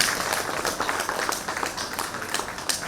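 Audience clapping to welcome a speaker at a spiritual gathering, a steady, fairly soft wash of many hands with scattered sharper claps throughout, no voices over it.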